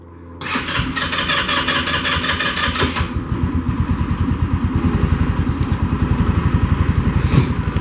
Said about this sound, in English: So let's start her up and see what it sounds like.